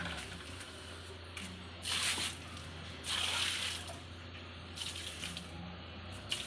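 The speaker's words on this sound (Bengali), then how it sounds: "মা এখন হচ্ছে আমাদের রাস্তাটায় জল দিচ্ছে" Water thrown by hand onto a dry, dusty road on a hot summer afternoon, quiet intermittent splashes and pours in several bursts over a steady low background hum.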